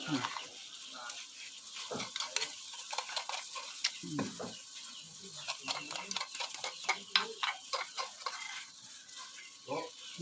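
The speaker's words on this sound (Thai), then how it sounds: "ใส่พริกแกงลงไปเลยเจ้า" Curry paste sizzling and frying in a pan while being stirred for a vegetable curry, giving a steady close crackle with scraping strokes, and a chicken clucks faintly in the background.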